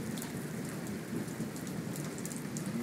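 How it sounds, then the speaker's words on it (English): Steady rain falls during a thunderstorm, a dense, even hiss of drops on surfaces that keeps up without pause, fairly close and moderately loud, with no voices. "I went to go feel the rain."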